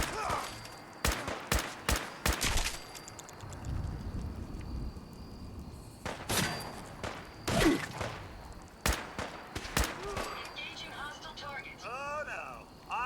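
Gunfire from the video game Fallout 4: a series of sharp, loud shots and short bursts spaced unevenly across the clip, some clustered in quick volleys, over a constant background bed with a voice heard now and then.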